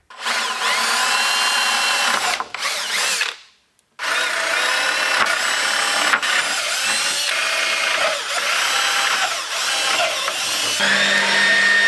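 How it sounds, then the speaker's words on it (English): A power drill whines loudly through a wooden truck bed for a 1966 Chevrolet C-10 in long bursts, briefly stopping once, then running again with shifting pitch as the bit bites in. "I'm drilling them now before I put the varnish on"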